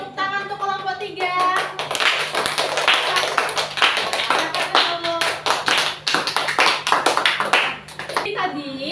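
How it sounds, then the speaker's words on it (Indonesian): A classroom of children claps for a group of students with rapid, scattered applause that swells and then fades. A teacher's voice and children's chatter are heard before and after it. "Kita beri tepuk tangan untuk kelompok 3."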